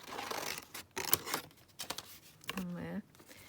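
Scissors snip through paper for a junk journal, several short crisp cuts and rustles close by, ending in a brief louder sliding rasp.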